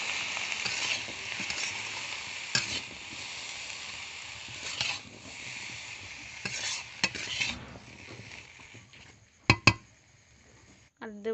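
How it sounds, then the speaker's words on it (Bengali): Spices and shredded cabbage stirred in a pan for a Bengali cabbage ghonto: steady close sizzle with a spoon scraping and clinking against the metal, a few sharper knocks near the end. "ভালো করে নেড়ে দেব।"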